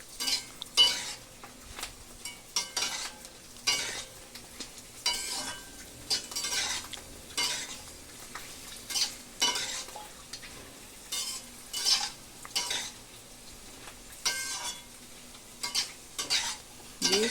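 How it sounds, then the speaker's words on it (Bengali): Fuchka (puri) dough rounds frying and puffing in hot oil in a full kadai, a steady crackling sizzle punctuated by repeated sharp scrapes and stirs of a utensil, close and continuous with no voices. "বেশ সুন্দর ফুলছে ফুচকাগুলো, পুরো কড়াই ভর্তি হয়ে গেছে।"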